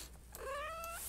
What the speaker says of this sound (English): Cat decided to join us again.